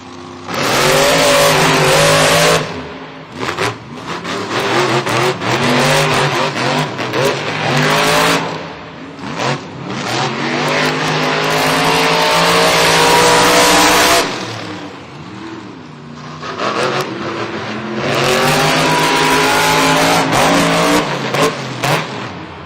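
Monster trucks at a Monster Jam stadium event in San Diego, among them Grave Digger, roar loudly with sustained revving engine bursts and shifting pitch, separated by short drops, with crowd ambience beneath.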